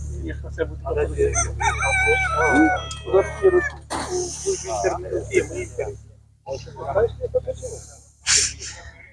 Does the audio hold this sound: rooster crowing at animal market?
yes